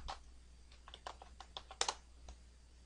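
Typing on a computer keyboard into a browser address bar, a short run of quiet, close, irregular key clicks with a brief louder cluster near the end.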